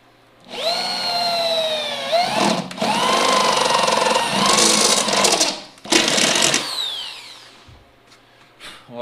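A power drill whines loudly as it bores into aluminum for racing seats, its pitch rising and dipping through several long grinding runs with brief pauses between them.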